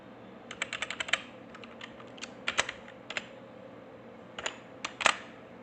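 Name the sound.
typing on a computer keyboard in Excel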